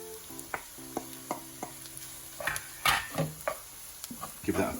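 Rice tipped into a hot buttery pan for kedgeree sizzles while a spoon scrapes and stirs it, with irregular clinks and scrapes against the pan and a person talking over the cooking.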